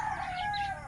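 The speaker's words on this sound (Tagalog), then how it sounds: "sumalubong na yung mga chickens at yung mga sisiw din" Chickens and chicks cluck and call close by in a brief farmyard moment, a steady chorus of poultry with a higher tonal peep running through it and no talking.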